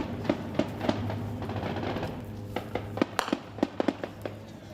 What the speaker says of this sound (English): The sound of gunfire is immediate.